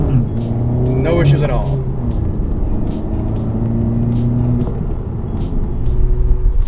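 A Honda Civic Type R engine drones steadily while turning and shifting into second, with a brief rising rev and gear change near the start, heard close from inside the car beneath someone talking.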